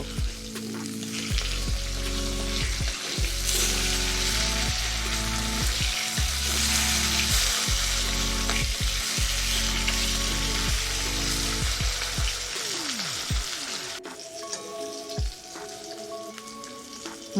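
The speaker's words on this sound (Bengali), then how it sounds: "মাছের এক পিঠ ভাজা হয়ে গেছে, আর এক পিঠ উল্টিয়ে দেব।" Fish sizzles and spatters steadily in a hot frying pan as it is turned to cook the other side, a continuous close frying hiss with a few brief stirring clatters and no talk.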